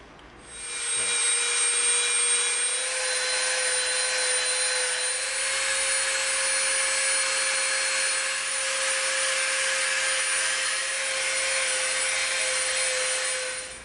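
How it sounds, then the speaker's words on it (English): A Dremel rotary tool grinds and softens the edges of EVA foam, starting after a second and running as a steady, close high-pitched whine with grinding texture before stopping. "we're going to Dremel. We're going to soften the edges of this up."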